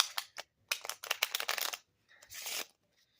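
A deck of playing cards is shuffled up close in several short riffling bursts separated by brief pauses, crisp and quiet with no talk.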